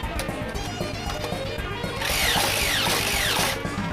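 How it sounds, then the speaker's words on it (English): A Nerf N-Strike Stampede ECS blaster fires foam darts in flat shots, a steady mechanical whir throughout with a louder burst of rapid, ratcheting shots in the second half, close and without talk. "So first we're just going to shoot its typical Screamline darts out of it"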